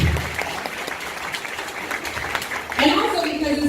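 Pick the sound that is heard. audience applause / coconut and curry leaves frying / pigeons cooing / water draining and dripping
audience applause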